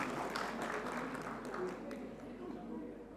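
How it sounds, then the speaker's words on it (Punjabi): An audience applauding at the press conference for the Punjabi film Majnoo: a fairly faint, scattered patter of hand claps that gradually thins out, with people talking under and over it. "ਸਾਰੀ ਸਟਾਰਕਾਸਟ ਮੀਡੀਆ ਲਈ ਇੱਕ ਵਾਰ ਤਾੜੀ ਜ਼ਰੂਰ ਲਾ ਦਿਓ ਪਲੀਜ਼"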